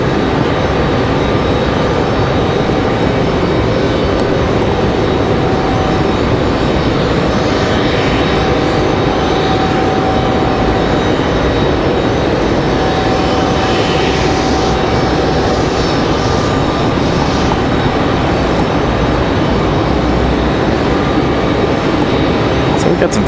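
An airliner departs Raleigh-Durham International for New York, a constant loud engine rumble filling the whole stretch at close range while a voice speaks over it.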